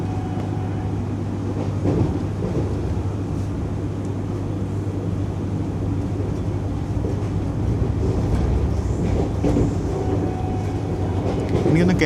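Vande Bharat Express running between Ernakulam and Palakkad, heard from inside the Executive Class coach as a steady loud rumble and hum of the moving train with faint rail clatter, no talk.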